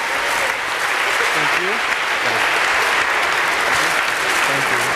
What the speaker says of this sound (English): a little round of applause for these guys here